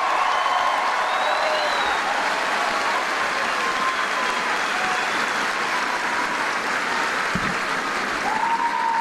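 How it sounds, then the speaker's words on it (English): A graduating crowd at an infantry boot camp ceremony at Fort Jackson gives a final round of dense, sustained applause for the soldiers, even and continuous with a faint hum beneath. "How about a final round of applause for our soldiers that achieved excellence here today?"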